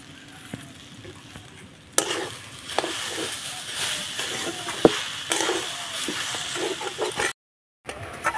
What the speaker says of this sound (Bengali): চিনিটা আঙা আলুর সঙ্গে ভালো করে মিশিয়ে নিয়েছি।